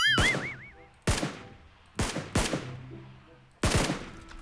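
Gunfire in the video game PUBG Lite: five loud, sharp shots, two close together, each ringing out with a decaying tail, heard alone without talk.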